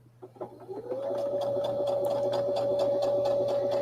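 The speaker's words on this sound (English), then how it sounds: "go ahead and start sewing again" A Brother sewing machine stitching a seam starts with a few uneven stitches, then runs at a steady speed with a rapid, even needle clatter over a smooth motor whine, close and clear with no talking.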